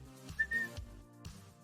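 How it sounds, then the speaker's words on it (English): A referee's whistle in a football video game sounds as a single short, shrill blast over the muffled stadium and background bed of a Newport County career-mode match. "Blow the whistle"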